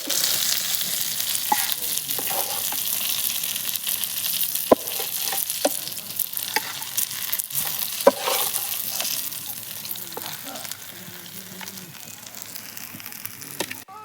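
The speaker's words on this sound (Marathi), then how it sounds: "आता मासे चांगले फ्राय झालेले आहेत" Fish fries in a pan over a wood-fired clay village stove, giving a steady loud sizzle with crackles and occasional sharp pops throughout, no talking.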